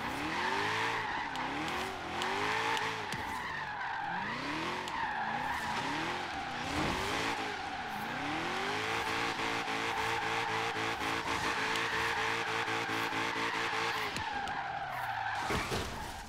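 A 1932 Ford drifting in Forza Horizon 3, its tires screeching in long repeated skids over a steady, loud engine drone, with no talk.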